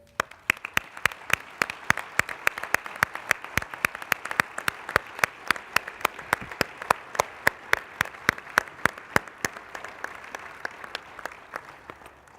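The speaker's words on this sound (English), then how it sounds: "Gentlemen, can we applaud our moms today?" A church audience applauding mothers, a dense steady round of clapping that holds evenly throughout with no talk over it.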